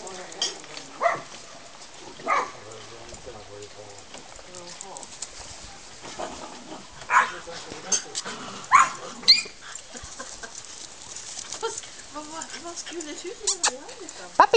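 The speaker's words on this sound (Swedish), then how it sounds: "De skäller ju där inne" Eight-week-old Pumi puppies barking and whimpering indoors, with short scattered yips and whines at moderate distance while people talk throughout.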